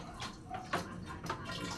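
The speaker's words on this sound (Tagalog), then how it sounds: "So we will put the water." Water poured into a cooking pot for soup broth, a faint, gurgling splash with small drips and bursts over a quiet kitchen background.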